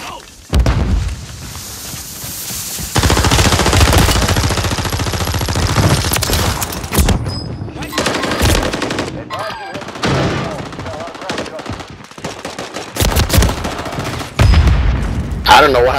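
Video game gunfire in sustained loud bursts of rapid automatic shots with booms, broken by brief pauses and shifting bursts throughout, with a voice talking over parts of it.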